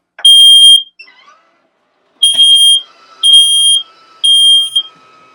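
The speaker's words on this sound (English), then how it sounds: "a better model of smoke alarm, so people don't have the issue of it going off when you're just cooking" A piercing smoke alarm in a Dynamax Isata 5 RV, set off by cooking, blares in four loud, shrill pulses, each about half a second long, separated by short pauses and a faint chirp.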